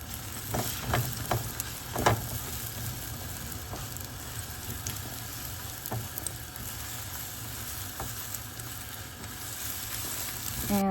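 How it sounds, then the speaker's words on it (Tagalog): Egg scrambling in hot oil in a pan for a Chinese stir-fried chilli and egg dish, a steady close sizzle with a few sharper crackles and stirring clicks, no voices. "In a pan, we're going to add a little bit of oil. And then we're going to cook our egg. We're going to scramble it."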